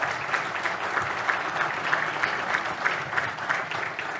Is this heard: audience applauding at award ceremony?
yes